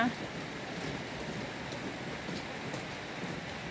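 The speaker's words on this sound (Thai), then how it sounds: "วันนี้ฝนตกหนักมากนะคะ" Heavy early-morning rain pours steadily over open rice fields, a constant dense hiss of drops with no pauses, fairly distant and even in level.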